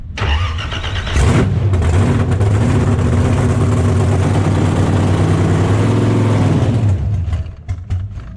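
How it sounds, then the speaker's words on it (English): A 1,700hp pro Australian burnout car engine cranks, fires and runs loud and rough for several seconds up close, then cuts out as its fuel runs dry. "So let's just kick it over, run all the fuel out of it"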